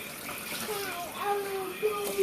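Water poured from a cup into a container of rice, a short close trickle and splash rising in pitch as it fills, moderately loud, with a faint voice in the background.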